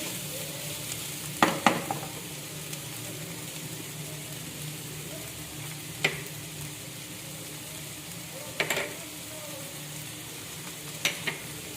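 Vegetables and spices stir-fried over high heat for chicken spring roll filling give a quiet, continuous frying hiss, broken by four or five sharp scraping knocks of a spatula against the pan.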